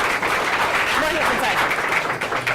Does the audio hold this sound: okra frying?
no